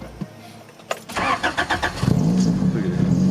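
An H23A-swapped Honda Accord with a no-start problem cranks with a quick run of rhythmic starter pulses, then catches and settles into a steady, close idle.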